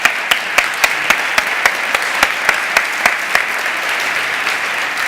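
An audience applauds at a JavaScript developer conference talk, with steady dense clapping and sharp individual claps standing out in a regular rhythm, close and sustained with no speech.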